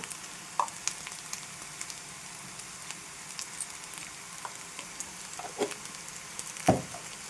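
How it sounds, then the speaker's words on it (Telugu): Fresh grated coconut with turmeric fries in a pan with a soft, steady sizzle, broken by occasional scraping clicks as it is stirred, close and alone. "వేసుకున్నాక చక్కగా ఇదంతా కలిసేలాగా తిప్పుకుంటూ మనము ఈ కొబ్బరిని ఫ్రై చేసుకోవాలి."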